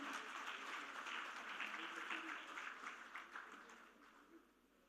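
Audience applause at the inaugural session of an auto summit marking a white paper release, a steady wash of clapping that thins and fades toward the end, with some voices faintly mixed in.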